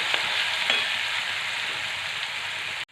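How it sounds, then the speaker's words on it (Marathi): Crushed green chili and garlic, with cumin, sauté in hot oil for a spicy fenugreek-leaf curry, giving a steady, close sizzling hiss with a couple of faint stirring scrapes early on, then cutting off abruptly. "दोन मिनटं हिरवी मिरची आणि लसूण मस्तपैकी या तेलामध्ये व्यवस्थित असं एकसारखं हलवत परतून घ्यायचं"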